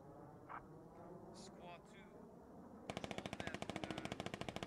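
Rapid automatic gunfire in the Squad military shooter game, a loud sustained burst of evenly spaced shots following a stretch of quieter ambient battle noise and faint distant sounds.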